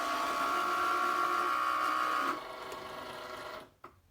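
Cricut cutting machine starting up, a steady mechanical whir with a motor whine that drops to a quieter hum after a couple of seconds, then a brief pause with a small click near the end.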